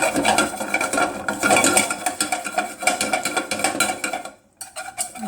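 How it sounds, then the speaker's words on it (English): Chipotle powder, chili powder, salt, pepper, cumin and garlic are whisked with a small whisk, rapid rhythmic clicking and scraping against the bowl, close and busy, stopping briefly before a few last strokes. "can use a little whisk here"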